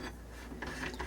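An armorer's tool works loose the flash hider on an AR-style .300 Blackout barrel, giving quiet, close mechanical ratcheting and clicking with a few slightly sharper clicks toward the end.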